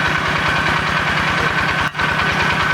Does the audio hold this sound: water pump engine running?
yes